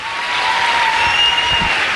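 An audience at a motivational speaker's event applauds, with dense, even clapping from a large crowd that continues steadily throughout without speech.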